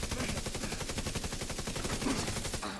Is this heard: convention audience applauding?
no